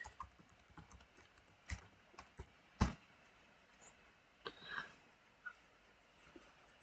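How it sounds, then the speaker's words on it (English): Someone types a password on a computer keyboard in a quiet room, producing a handful of soft, scattered key taps with one sharper click partway through. "when you type the password you can't see it"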